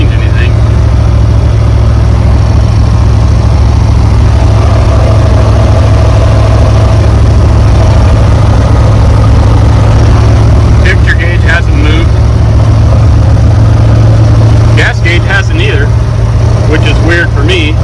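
A loud, deep LS V8 engine swapped into a 1982 G20 van idles with a heavy, constant low rumble close by, its exhaust louder than before, as a voice talks over it in bursts.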